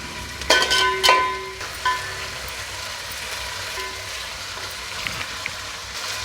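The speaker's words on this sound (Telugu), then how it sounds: "ఒక 2 నిమిషాలు అల్లం వెల్లుల్లి పేస్ట్ పచ్చివాసన పోయే వరకు ఫ్రై చేసుకుందాం" Ginger garlic paste fries in a pan for a gongura chicken dum biryani, giving a soft steady sizzle broken early by a few sharp metallic clinks of a spoon against the pan.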